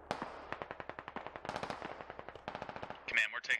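Rapid automatic gunfire in the video game Squad, with bursts of dense, regular shots crackling near and loud, a radio-like chirp near the end.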